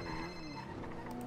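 A telephone rings in a video game, a soft electronic ringtone with sustained tones heard faintly in the background, with no speech over it.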